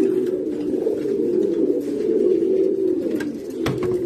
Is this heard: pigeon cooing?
yes